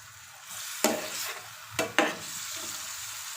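Garlic-ginger paste frying in a pan for homemade stovetop pizza sizzles softly and steadily, broken by a few sharp spoon scrapes and stirring strokes.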